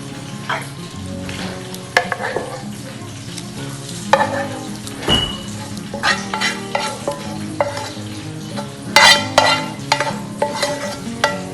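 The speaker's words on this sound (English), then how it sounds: "So we're going to coat it with tomato sauce." Crispy fried fish is turned and coated with tomato sauce in a hot pan, producing loud, continuous stirring and scraping over a busy frying sizzle, with frequent sharp utensil knocks and no talking.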